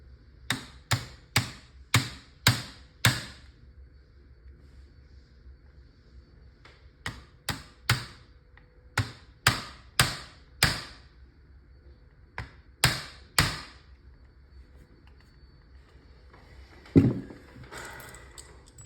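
A small hammer taps sharply in quick bursts of three to six strikes, tapping a part home while installing a pressure housing in an Umarex HDX pistol, pausing between groups, close and clear with no voices.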